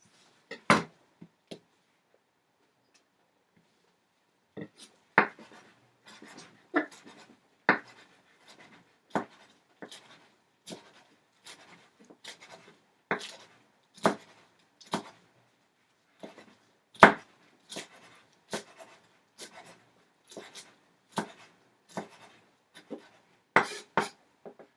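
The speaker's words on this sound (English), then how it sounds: "Now we're going to be chopping up cilantro." A knife chopping cilantro taps rapidly against a cutting board in uneven bursts, close and crisp, with short pauses between runs.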